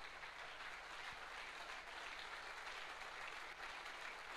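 A church congregation applauds during a worship service, a steady, dense wash of clapping heard faintly from a distance that continues evenly without pause.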